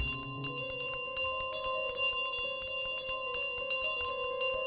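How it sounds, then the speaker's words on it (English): Rapid, continuous bell ringing in Untitled Goose Game, a bright metallic clangor struck over and over in a steady flurry, loud and close, with no talking. "the bell makes a lot of noise"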